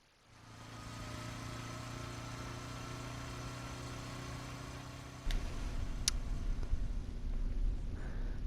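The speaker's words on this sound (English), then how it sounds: "I closed in on the side of the road and killed the engine." A motorbike engine idles steadily in a video game, a low even rumble with faint harmonic hum holding for several seconds before the tone shifts rougher and louder as the engine is cut.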